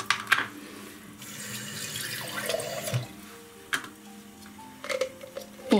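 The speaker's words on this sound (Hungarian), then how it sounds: "Így nyugodtan kifolyik belőlük a víz" Water drains and trickles from a tray of sprouting seeds during home sprouting. Soft irregular splashes and sharp drip ticks play quietly in a small indoor space.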